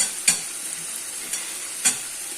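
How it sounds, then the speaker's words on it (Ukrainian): Food sizzles steadily in a hot pan while a utensil stirs and scrapes it in a few brief strokes, close up with no speech. "Зараз розмішаємо і накриємо кришкою. Хай дуже сильно не смажиться."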